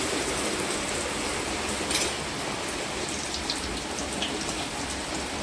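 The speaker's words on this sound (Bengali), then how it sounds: "চপগুলোকে ভেজে নেবো আমি" Jackfruit and prawn chops deep frying in hot oil, a dense, steady crackling hiss that holds at an even loudness throughout.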